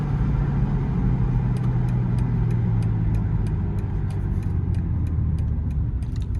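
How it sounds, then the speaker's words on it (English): BMW X3M with upgraded six-piston brakes driving slowly into a subdivision, a steady low cabin engine and road rumble with faint rhythmic ticking, no talk. "So driving the X3M. See how it stops here, pulling into the subdivision."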